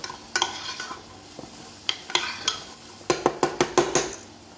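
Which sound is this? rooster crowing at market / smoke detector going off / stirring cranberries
stirring cranberries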